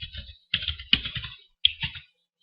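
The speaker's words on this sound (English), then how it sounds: "where I'm going to type in the username and password that I wrote" Fingers tap out a username and password on a computer keyboard in short, quick bursts of clicking keystrokes separated by brief pauses, close and clear with no talking.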